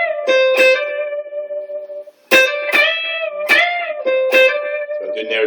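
Electric guitar played alone: notes are picked and bent up a tone and a half and held. Several separate attacks sound clearly, each with bright overtones and a smooth upward pitch glide, close and fairly loud.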